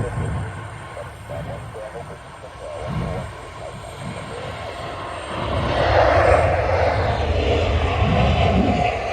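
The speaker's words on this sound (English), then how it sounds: "the Turkish Airlines Neo started the takeoff roll" A Turkish Airlines A321neo jet begins its takeoff roll at Manchester Airport, a distant engine roar that builds in loudness toward the end, with someone talking over it.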